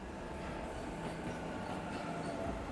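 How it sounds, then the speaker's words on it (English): Train derailing in the video game 13 Sentinels: a steady, dense rumble and roar of rail cars with a faint hint of wheel squeal, fairly quiet and with no voices. "the train. It just went off the rails"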